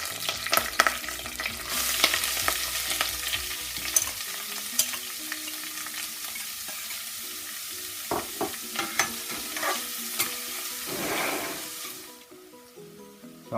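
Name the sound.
chopped onions frying and being stirred in a pan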